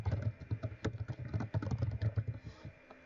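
A computer keyboard being typed on to enter a name, quick irregular keystrokes close by and fairly quiet, with no speech.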